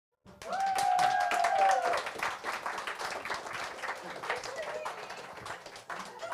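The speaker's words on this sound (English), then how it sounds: "Let's hear a loud round of applause" An audience applauds to welcome a BNP Paribas guest onto the stage, dense clapping swelling loud at first, then thinning and tapering while voices and some music-like tones run underneath.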